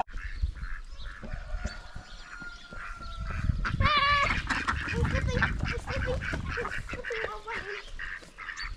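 Ducks on a New Zealand farm, the flock kept for laying eggs, quack and honk in a busy overlapping chorus, close and fairly loud, with calls rising in a burst near the middle and continuing to the end.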